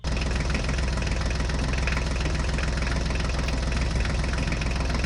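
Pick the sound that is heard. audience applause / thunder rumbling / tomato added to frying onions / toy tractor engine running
toy tractor engine running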